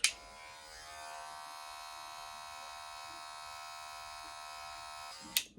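Electric hair clippers buzzing steadily while cutting hair for a low to mid taper fade, close and continuous with brief clicks at the start and end.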